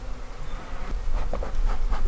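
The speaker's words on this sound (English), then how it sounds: "A lot of bees on the front of this hive." Dense, steady buzzing of many honey bees on the front of a hive, a continuous droning hum with no voices.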